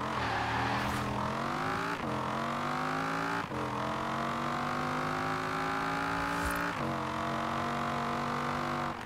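A car in the racing game Forza Horizon 4 accelerates at full throttle, its engine revving higher through each gear before brief dips at the shifts. The roar is loud, close and continuous, with about four shift breaks and no talking.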